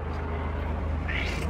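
A cat meows once, close and clear, rising out of a steady low background hum near the end of the short span.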